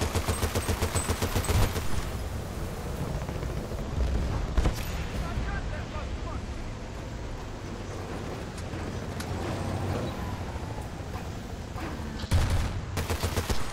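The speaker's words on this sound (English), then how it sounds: "Why are you shooting at it?" Sustained video game battle gunfire with bursts of shooting, booming explosions and vehicle rumble around a tank being repaired. A dense, steady wall of combat noise, with louder clusters of shots near the start and end and voices talking over it.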